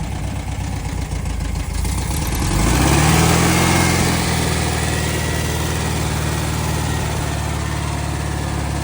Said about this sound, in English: Warming up that clutch, huh?